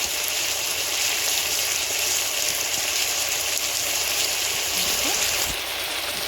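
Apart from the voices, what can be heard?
potato stew cooking in the pot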